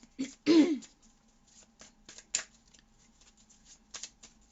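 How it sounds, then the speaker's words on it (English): Tarot cards are shuffled in quick bursts of crisp riffling and flicking, close by, with short pauses between bursts and no talking. "So go ahead and shuffle these up really good."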